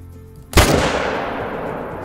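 A single sharp rifle shot fired at a gemsbok in the hunting game theHunter: Call of the Wild, loud and close, with a long rolling echo that fades slowly afterward.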